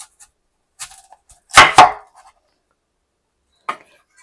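A kitchen knife cuts an onion in half on a cutting board, giving a few crisp, close chopping thuds with a strong pair of strikes near the middle and one lighter tap later, separated by silence.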